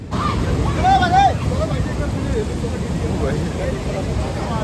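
Floodwater in a swollen river in Kullu, Manali rushes steadily after a cloudburst, a broad continuous roar with wind buffeting the microphone and faint voices underneath.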